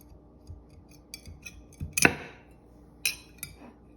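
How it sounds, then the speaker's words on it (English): Butter knife scraping and clicking around a cup set on a food-art rabbit, giving a few sharp metallic ticks and one brief scraping burst in otherwise quiet surroundings. "I'm gonna put down my cup again and press, and then go around with my butter knife"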